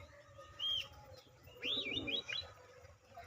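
Aggressive pet pigeons, two short bursts of cooing and chirping calls, close but soft against a quiet background.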